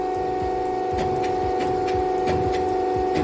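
A shoe-industry head-cutting press machine runs its rear roller, a steady mechanical hum with a constant tonal whine and regular rubbing, scraping strokes repeating close by, no voices.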